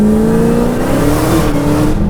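A 1,000 horsepower Dodge Challenger Hellcat roars under hard acceleration while its tires break traction, a loud sustained engine note with a rising pitch heard from inside the car.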